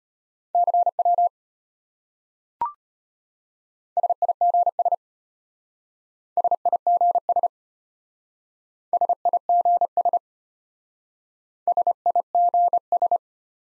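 Morse code CW tones sent at 25 words per minute, a steady mid-pitched beep keyed in five short bursts of dots and dashes, separated by pauses, with one brief click between the first two groups; no voices.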